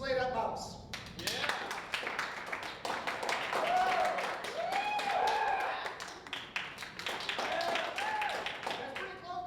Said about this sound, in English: I'm going to let the audience vote by applause